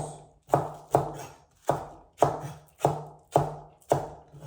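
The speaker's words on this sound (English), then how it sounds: "there are two ways of cutting this green onion." A knife slices green onion on the diagonal on a cutting board while prepping Korean spicy beef soup, giving seven evenly spaced, crisp chops close by with nothing else heard.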